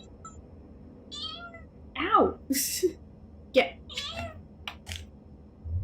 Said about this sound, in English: Oh my god, cat!